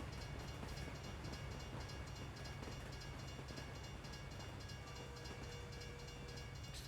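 Train rolling past in the video game LittleBigPlanet 2, a steady low rumble with faint ringing tones, continuous and fairly quiet from start to finish.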